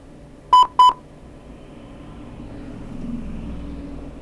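Two short electronic beep pulses from a low battery level alarm triggered at 10 volts, close together near the start, then a steady low hum and rumble continuing underneath.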